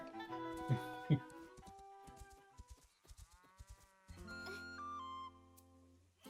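A cow in Zelda: Echoes of Wisdom lets out several short, low moos in a stop-start pattern, mixed with bright game tones and effects.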